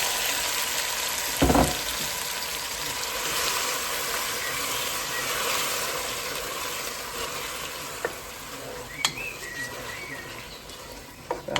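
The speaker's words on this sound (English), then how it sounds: "so I'm going to cook the onions until it releases the oil" Onions frying in oil with cumin seeds make a steady close sizzle, with a sharp clatter of stirring early on and a few light clinks later; no one speaks.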